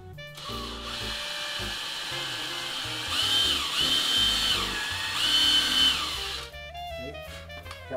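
Power drill boring a hole in wood while building an artist's easel, a close whining motor that ramps up, holds under load for several seconds, then winds down, alone without talk.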